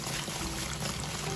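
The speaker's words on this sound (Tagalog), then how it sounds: "Atin po itong uhugasang maigit." Spider shells (saang) being rinsed in water, a steady sloshing, pouring wash heard up close for a brief moment with no talking.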